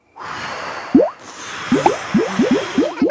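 Bubbles blown in a Peppa Pig cartoon: a breathy blowing rush, then a run of bouncy, rising bubble blips and pops in quick succession, loud and close with no talking.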